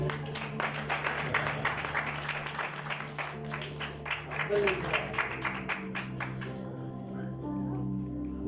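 A church congregation claps in a long, dense burst of applause that carries on steadily, then thins out near the end as the clapping fades under a lingering room hum.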